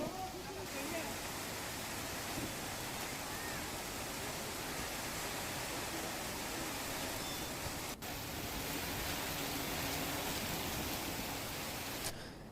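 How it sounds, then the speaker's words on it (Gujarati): Heavy rain driven by strong, stormy wind across Rajkot district, a dense, steady roar of broadband noise that holds loud and unbroken for the whole stretch with no voices. "આ વરસાદ ભારે પવન સાથે વરસી રહ્યો છે"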